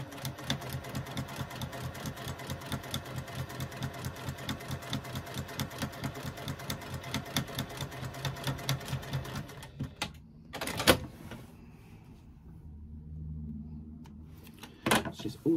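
A sewing machine runs a back stitch to secure threads while making a fabric slip pocket for a bag. It gives a fast, even mechanical chatter close up for about ten seconds, then stops, followed by a few handling knocks.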